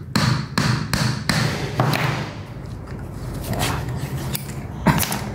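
Hammer taps knocking a steering rack seal into place on a Honda Brio in a workshop: several sharp, close thuds in quick succession at the start, then scattered fainter knocks.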